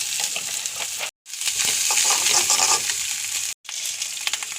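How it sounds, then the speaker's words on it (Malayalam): Garlic, shallots, ginger and a couple of neem leaves fry in hot oil in a pan, giving a loud steady sizzle and crackle cut by two brief silences. "ഇത് വറുത്തെടുക്കട്ടെ"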